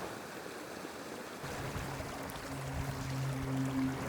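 A mountain creek in New Mexico flows steadily with broadband rushing and burbling water, fairly close and continuous, with a faint low hum rising toward the end.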